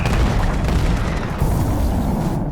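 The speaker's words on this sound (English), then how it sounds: "it's a Predator missile that you launch yourself" A Predator missile from the IronSight video game strikes with a loud, sustained rumbling explosion that rolls on for a couple of seconds as a dense low boom.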